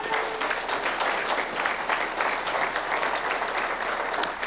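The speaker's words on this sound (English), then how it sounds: "Give her another round of applause." Audience applause at a Black History Month community celebration, sustained dense clapping from a crowd, steady and fairly close throughout.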